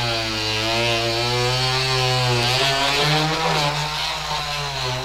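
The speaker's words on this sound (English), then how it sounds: "So this stuff right here is really caked on. So if you grab your multi-tool, and I'm using it just on a setting" An oscillating multi-tool on setting 6 scrapes caked-on debris from a mower deck, giving a loud, steady buzzing whine that wavers slightly in pitch as it works, close up and alone.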